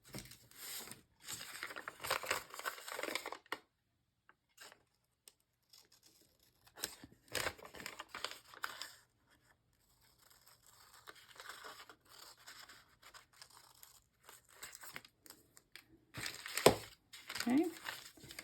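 Scissors cut brown packing paper up close, uneven bursts of snipping, crinkling and scraping with quiet gaps between, while a person speaks intermittently.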